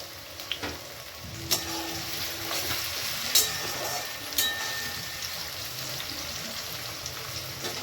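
Tomatoes frying in a pan, a soft steady sizzle at low volume with a few brief clinks and taps from the utensils, heard alone without talk.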